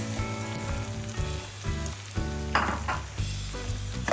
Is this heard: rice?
yes